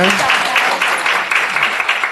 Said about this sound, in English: If you could give them all a round of applause